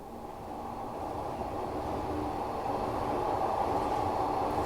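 A Glasgow Subway train runs in a train simulator game, a steady, loud tunnel rumble with a low mechanical drone that swells slightly, with no talking.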